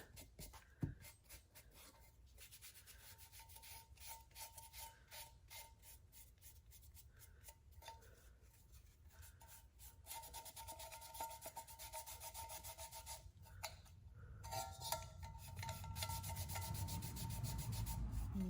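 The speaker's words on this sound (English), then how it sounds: "So we're gonna go ahead and do a little bit of distressing. Give it a little age." Painted wood furniture is distressed by hand, a close, quiet scratchy rubbing in rapid repeated strokes that grows louder and rougher toward the end, with no talking.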